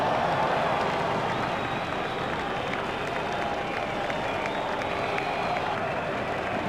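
A cricket crowd at a South Africa versus Australia match applauds a well-timed shot, giving steady, dense clapping and crowd noise that holds loud and even throughout, with no voices standing out.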